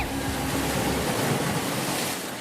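Sea waves surging and washing over open water as a boat sets out, a steady broad wash of surf with wind, loud and continuous with no speech.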